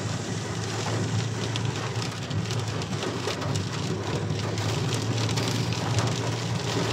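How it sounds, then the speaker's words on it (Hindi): Torrential rain in the mountains on the road from Makkah to Taif, a dense, constant hiss of heavy downpour drumming on surfaces nearby, loud and unbroken, with no voices. "देखिए किस तरह से मूसलाधार बारिश हो रहा है यहाँ पे"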